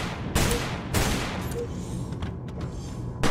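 Bursts of gunfire crack out in Barotrauma, a few loud volleys spaced unevenly over a noisy underwater background, with faint sharp clicks between the shots.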